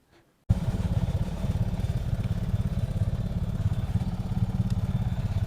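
Royal Enfield Bullet motorcycle engine idling on a rainy mountain road, a steady low thumping beat that starts abruptly and keeps going, loud and close, with no talking.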